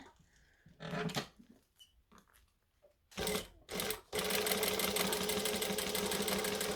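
A sewing machine stitches through a bulky fabric wallet, first in short close bursts separated by pauses, then settling into a long, steady, loud run of stitching.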